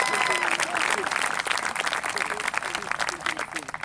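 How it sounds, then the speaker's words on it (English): Audience at the 2021 Peekskill High School graduation ceremony applauding, a dense, sustained wash of many hands clapping at moderate distance, tapering slightly toward the end. "Let's give them a big round of applause"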